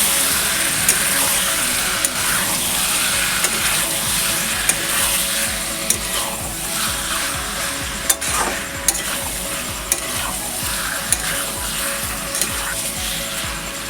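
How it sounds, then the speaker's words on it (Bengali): Chicken curry frying in a pan with spices and Kashmiri chilli powder, a loud, continuous close sizzle with frequent light clicks and scrapes as everything is stirred together, no voices. "এবার সব একসঙ্গে মিশিয়ে কষিয়ে নেব।"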